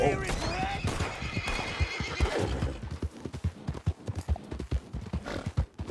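Horses neigh and whinny in the RedM video game, with clip-clop hoofbeats throughout, mixed under people talking.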